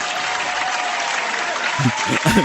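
A soundboard applause effect on a wrestling podcast plays as a dense, steady round of clapping, with voices starting to talk over it near the end.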